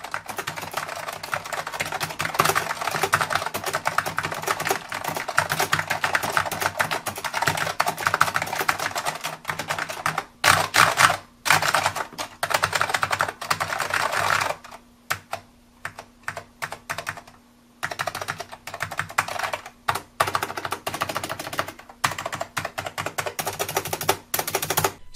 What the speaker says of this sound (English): it also feels really nice to type on, and it also sounds pretty nice too